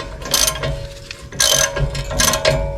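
A hand ratchet clicks in loud, repeated bursts while tightening a nut on a bolt to push a rear brake rotor off a 2021 Ford Ranger 4X4. There are three close strokes with short pauses between them and no talking.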